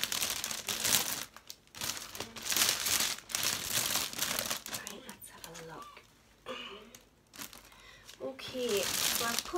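Cellophane crinkling as a hamper is wrapped: bursts of close, loud crackling rustle that come and go, with someone talking in between.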